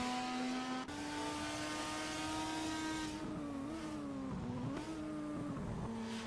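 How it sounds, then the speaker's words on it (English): Touring cars, including a Volvo, race at Bathurst in a sim racing game with loud, continuous engine roar close up. The pitch climbs and drops through gear changes and braking. "Nichols with the superior acceleration of the Volvo."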